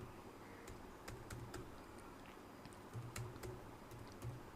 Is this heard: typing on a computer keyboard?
yes